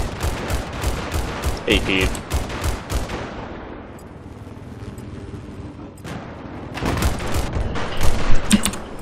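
Dense gunfire fills a Battlefield 4 firefight on the Zavod 311 map, with rapid bursts and booms up front, a quieter lull in the middle, then heavy shooting returning; a player talks over parts of it.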